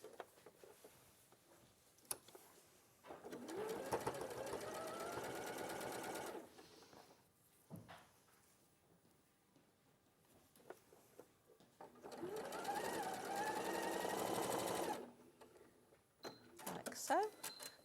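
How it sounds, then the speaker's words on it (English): A domestic sewing machine stitches quilt pieces into pairs with a quarter-inch seam, two sustained runs of fast rhythmic whirring separated by quieter handling and soft talk. "you're going to sew those two together and those two together into pairs"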